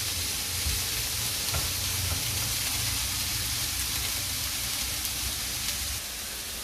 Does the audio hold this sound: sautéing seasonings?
yes